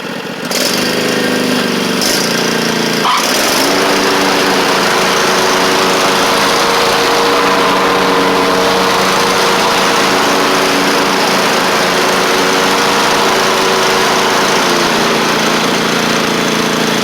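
A Cub Cadet XT1 riding mower runs close and loud with its blades engaged after a blade-engagement repair, a steady droning engine whine that settles after a brief revving start.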